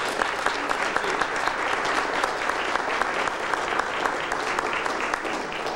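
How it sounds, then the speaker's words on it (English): Banquet crowd at a 2002 veterans honoring dinner applauds the mayor of Columbus, a sustained, even roar of many hands clapping fairly close throughout, with no speech. "Please, a nice round of applause for the mayor."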